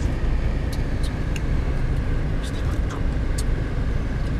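Steady low road rumble of cars idling and creeping in a Singapore traffic jam among BMW, Mercedes and Audi cars, with a few brief higher sounds over the constant drone and voices talking nearby.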